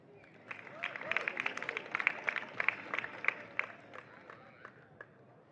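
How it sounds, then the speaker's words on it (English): Crowd applause and cheering rise for a third-place finisher at a Champions of the Future Academy karting final in Franciacorta, Italy; dense, sustained clapping from a moderately distant audience, fading toward the end. "Please give a huge round of applause to third place"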